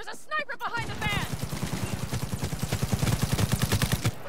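Rapid sniper and automatic gunfire in Cyberpunk 2077 during a firefight: a steady string of sharp shots that builds and grows louder toward the end, with a shouted voice at the start.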